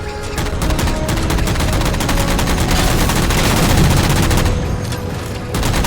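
Sustained rapid automatic gunfire in Halo 4 as jammers are shot down, a dense, loud, continuous rattle of shots over a heavy rumbling battle background, easing slightly near the end.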